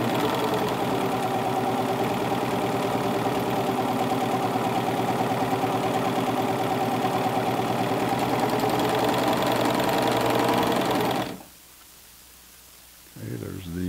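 A three-thread narrow serger runs continuously while trimming a pants seam, a loud rapid mechanical whir and clatter that stops abruptly near the end, leaving a brief quiet before a faint handling noise.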